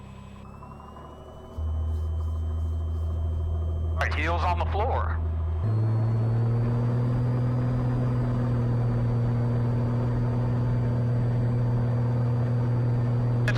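Cessna 182 single-engine propeller plane starting its takeoff roll, a constant droning engine hum that steps up in pitch and loudness as power comes up, with a brief spoken instruction over the cabin noise.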